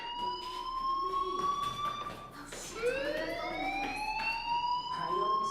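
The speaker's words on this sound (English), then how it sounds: "do you hear that fire alarm?" An in-game fire alarm blares steadily throughout a school scene in Life Is Strange, a continuous rising electronic wail with some talk faintly underneath.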